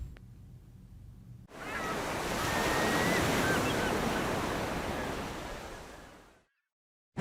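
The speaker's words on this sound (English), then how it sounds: "Tsunami, a killer wave, speeding across the ocean at 400 miles an hour." Ocean waves surge and crash in a single long wash that swells quickly, holds for several seconds and fades out, heard alone without voices.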